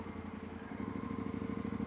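A motorcycle idles close by at a building's main entrance while being parked, its engine giving a steady, throbbing low rumble with fast regular pulses and no voices.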